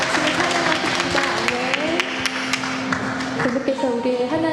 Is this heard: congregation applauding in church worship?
yes